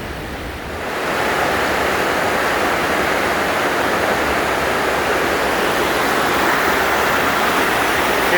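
Amity Creek rushes steadily near where it flows into Lester River, a loud continuous broadband roar of moving water that swells in after the first second and stays constant, with no talk.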